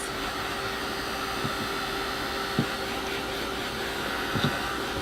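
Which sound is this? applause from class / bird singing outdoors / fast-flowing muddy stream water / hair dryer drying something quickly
hair dryer drying something quickly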